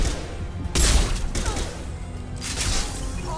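Gunfire in the Mass Effect video game, with two loud bursts of shots and impacts over a rumbling combat backdrop, up close.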